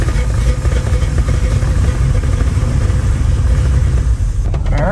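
A GM sports car engine runs on choke with a loud, rough, steady rumble close by, holding a fairly even idle throughout.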